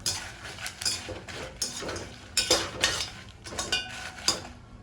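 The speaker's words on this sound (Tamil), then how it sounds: "ஒரு 15 மிளகா வத்தல் நல்லா வறுத்துக்கலாம்" Fifteen dried red chillies being dry-roasted and stirred in a pan, with repeated scraping and light metallic clinks from a spatula in an uneven rhythm, close and fairly loud, no voices.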